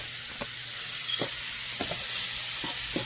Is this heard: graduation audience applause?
no